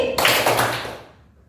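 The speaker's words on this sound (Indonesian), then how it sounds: "oke tepuk pagi ya, coba tepuk pagi, siang, malam" A classroom of pupils does a short burst of patterned clapping for a teacher's 'tepuk pagi' routine, dense and close for under a second before fading out.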